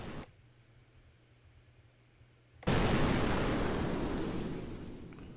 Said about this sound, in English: I have an explosion sound.